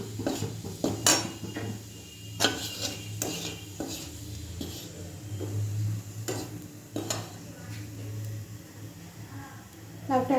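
Bottle gourd with white cumin seeds being stir-fried in a pan, with close metal spatula scrapes and clinks against the pan in an irregular rhythm over a low steady hum, a few sharper knocks standing out.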